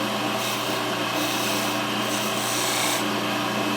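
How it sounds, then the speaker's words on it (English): A skew chisel cuts a spinning wooden bottle stopper blank on a lathe, giving a steady, close, continuous rasping scrape with no pauses or voices. "I'll take the skew once I found it, and we'll cut in there on those lines."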